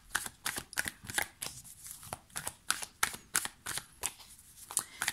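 Tarot cards are handled and laid out on a table, producing a string of crisp, close card snaps and slaps in an irregular rhythm, each one short and sharp, with no talking.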